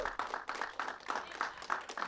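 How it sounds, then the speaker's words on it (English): Applause from a webinar audience greets the naming of a John Lewis class fleet replenishment oiler, a steady wash of many hands clapping that holds without a break for about two seconds. "Hand of applause."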